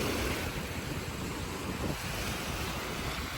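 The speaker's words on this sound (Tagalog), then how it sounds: "Tapos malakas yung hangin." Strong wind at Dolomite Beach roaring steadily across the microphone, with a broad rushing noise like surf underneath, constant and loud throughout.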